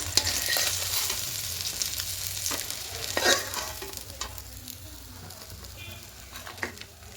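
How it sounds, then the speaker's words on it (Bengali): Katla fish pieces fry in hot oil for a potato and fish curry, giving a steady, close sizzle throughout with occasional clinks and scrapes from stirring. No one speaks. "ঠিক এরকম করে লাল করে মাছগুলো ভাজতে হবে।"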